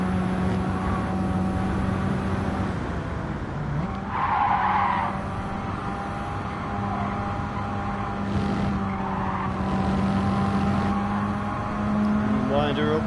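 Turbocharged race car engine in Gran Turismo 7, held at a steady drone with rising and falling pitch as the throttle rolls on and off, with tire skid noise mixed in and someone talking over it throughout.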